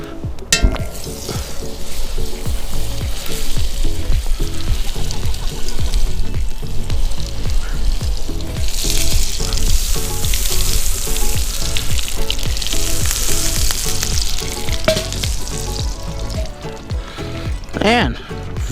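Venison loin searing in a hot pan with oil and butter gives a loud, steady sizzle and crackle that holds for the whole stretch, with a few light pan and utensil knocks along the way.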